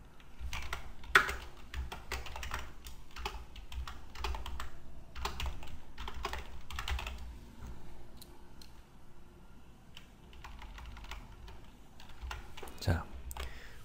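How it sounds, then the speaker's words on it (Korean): Someone types JavaScript code on a computer keyboard, giving close, irregular bursts of light keystroke clicks with brief pauses and a louder tap now and then. "제가 타이핑을 할 때마다"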